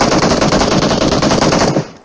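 Rapid automatic gunfire in the shooting game Payload: a loud, continuous burst of machine-gun shots in tight rhythm that cuts off abruptly near the end.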